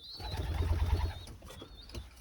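Pigeons coo softly up close while wings flap briefly, with faint background noise and no talking.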